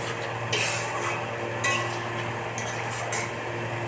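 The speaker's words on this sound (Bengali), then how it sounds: "গোলমরিচ গুঁড়োটা দিয়ে দিলাম এবার একটু নাড়িয়ে নেবো" Chicken in a pan, seasoned with ground black pepper, stirred with a spoon: a few distinct scraping and clinking strokes over a constant soft sizzle, close by.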